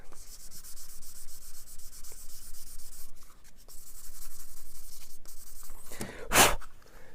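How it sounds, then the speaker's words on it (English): Close, quiet hand sanding of a plastic scale model: a continuous scratchy rubbing with a steady back-and-forth texture, ending in a brief louder rasp. "So just sand it smooth."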